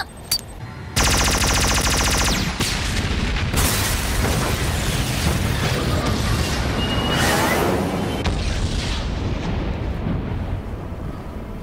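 Missiles or cannon fire launched from Chester aircraft in a tokusatsu battle: a sudden loud rapid burst of gunfire-like rattling that swells into a sustained roaring, explosive barrage lasting several seconds, with no talk.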